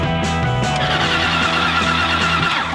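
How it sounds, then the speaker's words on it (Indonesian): A 60-year-old car accelerates, its engine giving a loud, steady droning growl with a sustained tonal hum throughout and no voices. "Pak sopir, tancap gas."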